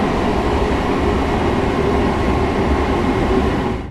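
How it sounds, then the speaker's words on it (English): Train rumbling in the video game Train Sim World 4 on the Harlem Line near NYC Grand Central, a loud, dense, continuous roar of rail noise throughout that fades slightly at the very end. "Man, these trains are so loud."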